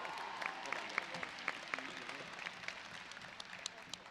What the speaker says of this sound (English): Let's give Saeed a round of applause.